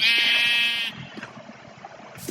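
A single loud, drawn-out Minecraft sheep bleat up close, followed by quieter soft bumps and background sounds.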